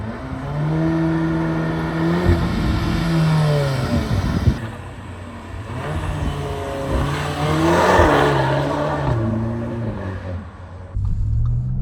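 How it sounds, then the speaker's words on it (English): A 2025 Audi S3 turbocharged engine revs and rumbles nearby, rising and falling several times, with gruff exhaust burbles and a sharp pop between throttle blips. "A lot of turbo whooshes, a lot of turbo sounds. Also, exhaust notes, a lot of burbles and pops"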